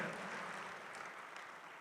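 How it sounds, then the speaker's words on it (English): Faint, steady applause from a conference audience at an awards night, a soft continuous patter of clapping heard from a distance. "So I think we should applaud the transistor"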